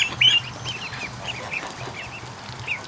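Ducklings and geese calling outdoors, a string of small high-pitched peeps repeating through the whole stretch over a low steady background hum.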